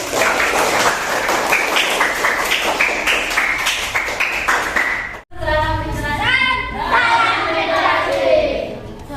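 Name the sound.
classroom applause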